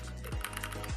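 Keys clack on a SteelSeries Apex 9 Mini keyboard, a quick flurry of light, crisp taps over a low background hum, close and fairly quiet.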